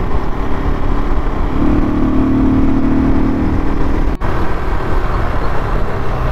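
A KTM RC390 motorcycle engine while riding on a cloudy monsoon day, a loud steady drone with a brief rise in pitch midway and one sharp click near the end, no voices.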